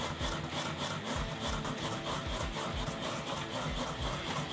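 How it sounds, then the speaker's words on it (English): Fresh wasabi root being ground in small circles on a shark skin paddle, a close, steady rasping scrape with a quick repeating rhythm throughout. "you just simply take your paddle board of shark skin and you just grind it"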